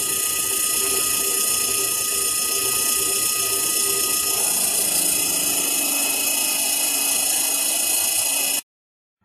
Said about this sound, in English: now that we've got that countersink drilled